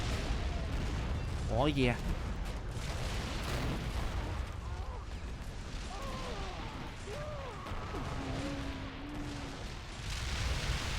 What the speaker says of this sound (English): Is that artillery gun I gotta fire again? Oh, that's awesome. The rate of fire is pretty good on this one.